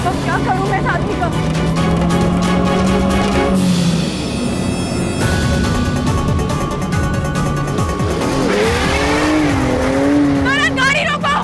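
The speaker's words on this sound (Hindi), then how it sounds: "करण गाड़ी रोको" A car speeds hard with tires squealing and skidding and the engine revving, loud and close throughout, while someone shouts over the noise.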